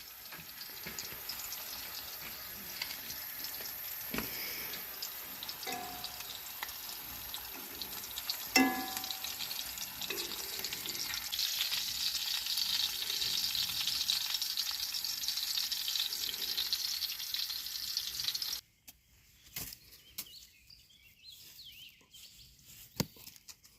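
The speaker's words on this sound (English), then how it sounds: "cooking breakfast on the old camp stove before we go fishing" Eggs fry on an old camp stove, a soft continuous crackling sizzle with occasional small clinks, which stops abruptly near the end and leaves quiet outdoor background.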